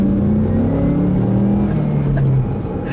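A tuned Ford EcoBoost Mustang launches with a loud, close engine drone, its pitch climbing in stepped gear pulls before easing off near the end.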